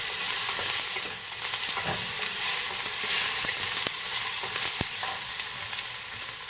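Rice with finely diced tomato sizzles loudly in a pan while being stirred. A continuous hiss of frying is broken by scraping strokes and a few sharp clicks of the utensil.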